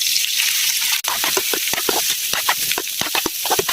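Garlic and rice frying together for Filipino sinangag, a steady close sizzle with repeated scraping stirs of a spatula through the pan, one brief break near the start.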